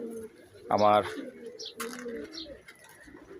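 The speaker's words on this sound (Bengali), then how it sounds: "এটা হলো পাঠা কবুতরের ধাপড়ি।" Male pigeons coo on a rooftop, a close, throaty rolling burst followed by softer repeated coos, with someone speaking briefly over them.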